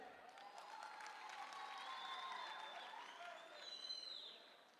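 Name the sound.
audience clapping hands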